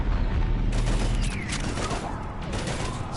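Dense rapid-fire gunfire in the Mass Effect 3 video game battle rattles loudly over a heavy low rumble, with mechanical clatter and bursts blending together.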